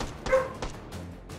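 Several dogs bark and yip in short bursts somewhere outside, a little distant and muffled, behind a steady hum of background noise, with no talking.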